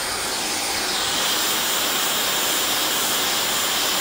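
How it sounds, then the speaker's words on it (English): A Dyson hair dryer blows in a loud, steady, airy whoosh with a high whine, held without a break from start to finish. "I'm gonna turn on my trusty Dyson"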